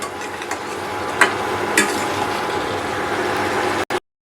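Pointed gourd fries with spices and ginger paste in a pan, a continuous sizzle broken by a few sharp scraping stirs, then cutting off abruptly near the end.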